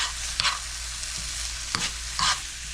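Lobster, garlic and sun-dried tomatoes are stirred in a hot sizzling pan, a steady fry hiss broken by a few short scraping strokes of the utensil.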